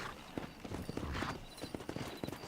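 A horse gallops hard during a race in Red Dead Redemption, with quick, close hoofbeats hammering in a fast, steady rhythm and little else around them.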